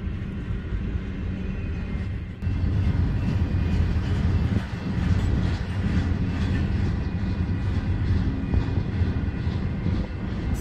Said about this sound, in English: Looks like we got a Z train.